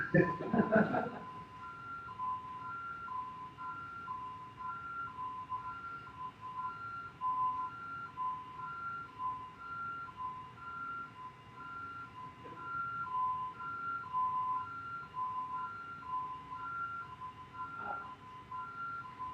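An alarm repeats in a meeting room, a steady pattern of paired beeps about once a second, moderately loud and continuing under faint background noise for the whole stretch.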